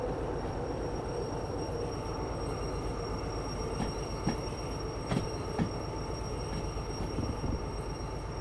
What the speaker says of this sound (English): I was starting to hear the wheels hiss.